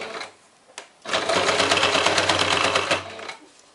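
Domestic sewing machine with a zipper foot stitching close along bias binding on a quilted zip pouch, a short burst then a steady, loud run of rapid stitching lasting about two seconds before stopping, with a backstitch.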